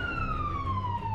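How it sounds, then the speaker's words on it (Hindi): A wailing emergency siren on a Moscow street, a single steady descending tone that sounds close and loud over low traffic rumble. "मॉस्को में सायरन की आवाजें कान के पर्दे फाड़ रही हैं"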